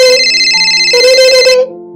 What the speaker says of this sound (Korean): 앞쪽에 앉아있는 승객의 휴대폰이 울렸습니다.